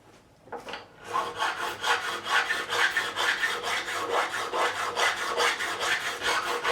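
A crowning file cuts the frets of a 1980 Gibson Les Paul Custom during a re-fret, a close rhythmic rasp of quick back-and-forth strokes that holds steady after a brief start, with no talk.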